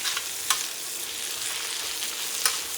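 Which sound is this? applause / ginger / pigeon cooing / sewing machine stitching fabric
ginger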